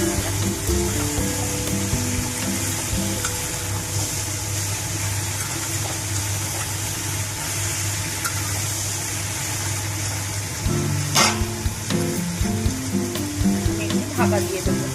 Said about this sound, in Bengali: এবার আমি পেঁয়াজ কলিগুলো দিয়ে দিলাম।